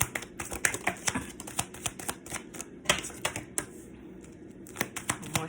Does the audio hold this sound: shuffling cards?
yes